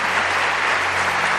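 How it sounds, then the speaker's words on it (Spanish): A studio audience applauds guests on a live talk show, steady dense clapping close and loud throughout with no pauses. "Os pido un aplauso para ellos."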